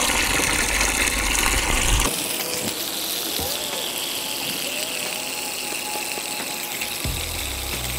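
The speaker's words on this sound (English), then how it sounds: "I'm going to start filling this up with water" Water running from a tap into a plastic tub for hydro dipping, a loud steady rushing gush that drops to a softer, fuller pour as the level rises, continuous and close, with a brief knock near the end.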